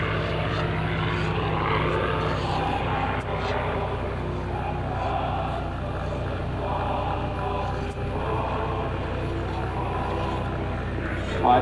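A Yakovlev Yak-9 propeller warplane flies past at a World War II air show, its engine a steady loud drone with crowd and announcer-style talk faintly mixed beneath.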